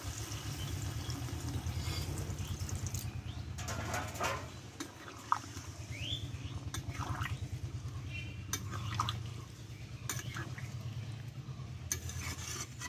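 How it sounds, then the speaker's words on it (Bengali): Hot water being poured into chicken cooking in a pan, a steady liquid rush and bubbling with a low sizzle, occasional clinks and stirring over a continuous cooking hum. "এখানে আমি গরম জল দেবো"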